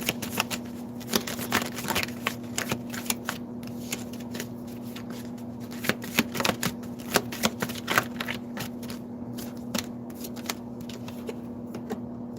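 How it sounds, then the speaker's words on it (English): Tarot cards are shuffled by hand over and over, giving crisp riffling flicks and soft slaps close to the microphone, set against a steady low hum, with no talk. "I'll pull some tarot cards too."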